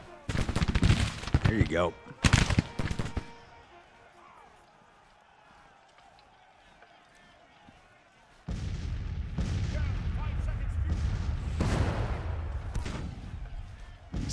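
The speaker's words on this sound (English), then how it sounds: "You see the firing's already slowed down." Musket volleys crack from a Civil War battle in the strategy game Grand Tactician: The Civil War, with dense rattling gunfire in bursts, a quiet lull, then sustained heavy firing; someone speaks briefly.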